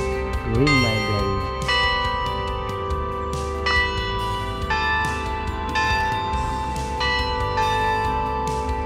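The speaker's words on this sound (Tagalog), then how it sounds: "And nagre-ring yung bell. Ring my bell." A bell ringing at Marian Orchards, a series of bright metallic strikes with ringing tones that hang between hits, with a voice heard briefly near the start.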